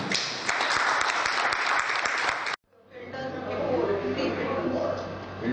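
Loud audience applause fills a hall at a neonatology conference, dense steady clapping that cuts off abruptly, then resumes as a fuller, more distant clapping crowd.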